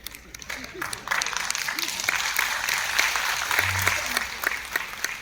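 An audience at a Hindi motivational success talk applauds, a dense spread of clapping that swells after a second and carries on steadily, with voices mixed in.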